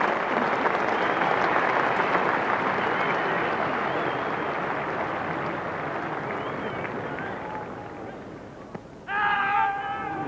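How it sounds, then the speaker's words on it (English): Crowd applause at Lord's cricket ground during an England v Australia one-day international in 1989, a broad steady wash of clapping that slowly fades, with a commentator's voice entering near the end. "And applause for Saturday's hero"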